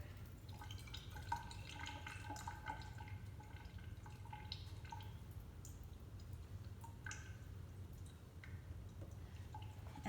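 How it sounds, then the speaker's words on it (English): Water pouring into a graduated cylinder during a lab experiment on the specific heat of a metal, a faint steady trickle with light dripping and splashing over a low background hum. "fill that guy up with 40 milliliters of water."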